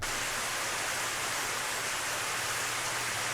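Water pouring down onto someone in the video game Higurashi, a steady, broad rushing wash like a small waterfall, even and unbroken, moderately loud and heard alone.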